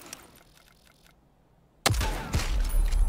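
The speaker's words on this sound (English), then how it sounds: "there's another one shooting at me" Gunfire crackles in the Super People video game, first as faint distant shots. A sudden loud burst of rapid shooting follows and continues to the end, with no talk.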